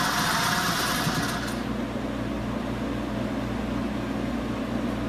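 A sewing machine runs continuously while stitching an 18-inch doll dress, a steady fast whirring hum with a brighter burst at the start that then settles to an even drone.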